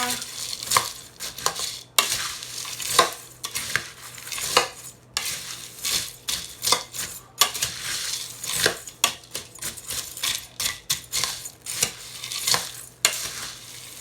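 A spoon stirs crunchy, hardened nut and fruit granola in a bowl, scraping and clinking repeatedly against the sides in an uneven rhythm, close up and without talk.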